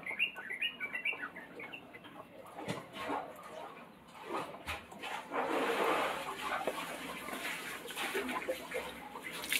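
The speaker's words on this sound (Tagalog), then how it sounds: "Ay, may ibon din eh." Birds chirp outdoors in Cagayan Valley, with light tweets scattered through a noisy rural ambience and rustling close by.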